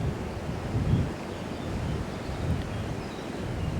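Wind gusts across a fishing lake during a match at Manor Farm, Swilland, as a steady low, broad rush close to the microphone, with slight swells and no voices.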